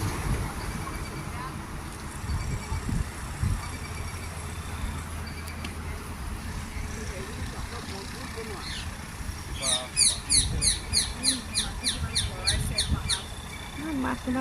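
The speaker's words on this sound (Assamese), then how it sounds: "এই গছজোপাত অসংখ্য ভাটৌ চৰাই" Many parakeets hidden in the leaves of a tree beside the Brahmaputra river break into a rapid run of shrill, repeated calls partway through, over outdoor rumble and someone speaking.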